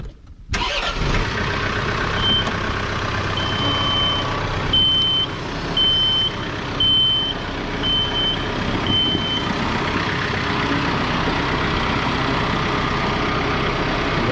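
A tractor engine rumbles steadily while a high reversing alarm beeps at a regular pace for several seconds, then the engine keeps running on its own.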